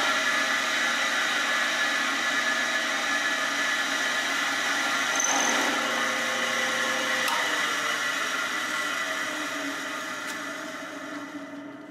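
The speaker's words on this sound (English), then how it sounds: "now I'm just going to drill a couple of 1/4-inch holes in the off-body alignment pins here and here" A power drill bores 1/4-inch alignment-pin holes in a guitar-building template, a steady whirring drone that holds for several seconds before easing off slightly, with no talk.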